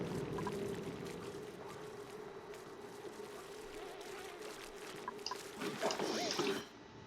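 Water drains in the colony-building game Oxygen Not Included as a steady rushing, pouring wash that holds level throughout, then swells into a louder splashy burst just before cutting off.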